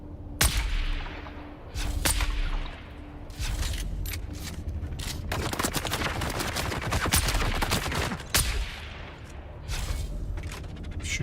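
Gunfire in the video game Dune Awakening, with rapid, near, loud shots and bursts that come in dense runs across the whole stretch, broken by only brief gaps and with no talking over it.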